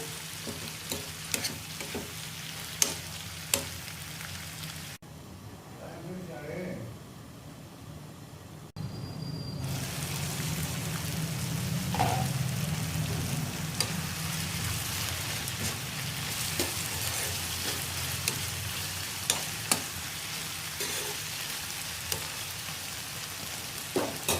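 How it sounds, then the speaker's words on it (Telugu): Two thinly sliced medium tomatoes fry and soften in a pan, a steady close sizzle running throughout with occasional stirring clicks and a brief quieter stretch partway through, and no talking. "టమాటాలు మధ్య వరకు మగ్గించుకోవాలండి"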